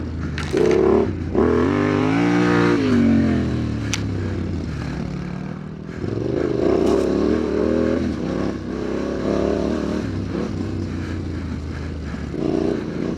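Road traffic heard from a motorcycle ride on a Kove 450 Rally or Tenere 700, with engines droning and revving near and loud, passing vehicles rising and falling over about thirteen seconds, no talking.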